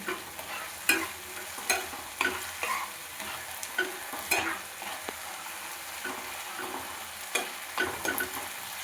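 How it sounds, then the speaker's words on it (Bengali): A spice paste of tomato, ginger and turmeric fries in a pan, giving a steady close sizzle broken by repeated sharp scrapes and clatters of a stirring spoon. "মশলাটা একটু ভেজে নেব যাতে এর কাঁচা গন্ধটা চলে যায়, টমেটো, আদা বা হলুদের।"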